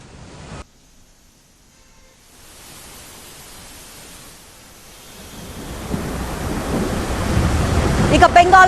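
A dust storm with strong winds sweeps through Noida near Delhi as a steady broadband roar that starts faint, then swells and grows louder and harsher toward the end, with no voices.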